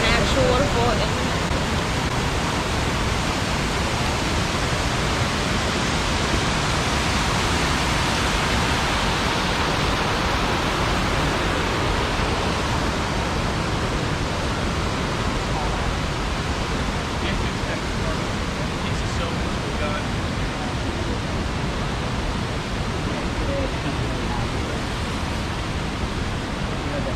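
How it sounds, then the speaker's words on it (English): The waterfall in Greenacre Park, Manhattan pours in a constant, loud, broadband roar that stays even and unbroken from start to finish. "It is an actual waterfall in Manhattan."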